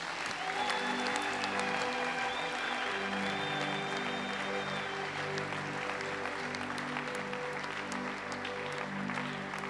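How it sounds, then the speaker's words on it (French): A church congregation applauding loudly during worship, sustained dense clapping with steady tonal hum underneath and a faint voice in the background. "Applaudissons très fort pour le Seigneur."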